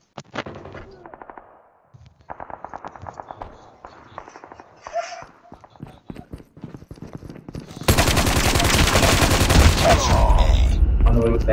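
Call of Duty gunfire crackles in scattered rapid shots and short bursts, then gives way to a sustained loud explosive roar that fills the last few seconds.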